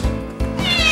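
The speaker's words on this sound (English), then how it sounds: "There's a little Bliss kitty" A kitten meows close and loud, two or three short cries in quick succession with no voices over them.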